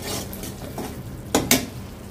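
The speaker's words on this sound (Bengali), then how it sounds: "আমি মশলাটা কষিয়ে নিচ্ছি।" A spice paste sautés in a pan under a soft sizzle, with a few sharp scrapes and knocks of a stirring spoon close by, two of them louder near the end.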